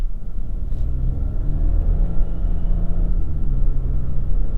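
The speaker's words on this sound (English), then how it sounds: "they're wet clutches, so they'll last a while. So, foot down." An Audi Q7 SUV accelerates hard with the throttle floored, its engine a steady deep rumbling drone heard from inside the cabin, holding loud and even throughout.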